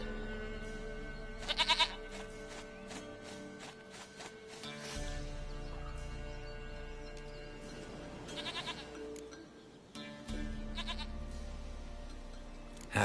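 A goat in The Witcher 3 bleats in short wavering cries against a steady game soundscape with low ambient tones, the bleats coming several times at moderate loudness.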